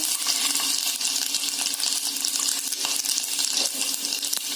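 Mustard seeds crackle in hot oil over medium heat while tempering Konkani-style godi dal, a close, steady sizzling hiss dotted with small scattered pops.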